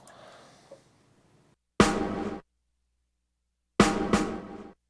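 Two dry snare drum hits, the second a quick double stroke, each with a short crisp decay that cuts off abruptly into silence. Faint noise precedes them.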